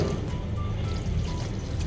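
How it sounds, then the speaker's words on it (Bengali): A little water is poured into a cooking pot of frying spices and oil, producing a steady close gurgling, filling splash that lasts the whole moment. "এবারে অল্প করে জল ঢেলে দিই"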